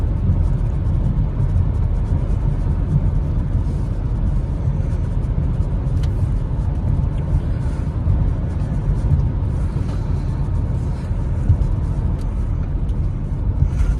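Steady low engine rumble and road noise from inside an Audi A4 B9 2.0 TDI with S-tronic gearbox moving at about 100 km/h, continuous and even throughout with no voices.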